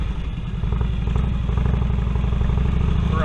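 A Harley Touring V-twin motorcycle fitted with new exhaust pipes runs close by, its deep loping rumble pulsing steadily and loud, rising slightly after the first half second.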